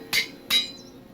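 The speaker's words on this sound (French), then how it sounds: "Petit coup de marteau." Two light hammer taps on a sheet, sharp metallic clinks about 0.4 seconds apart, close and clear against a quiet background.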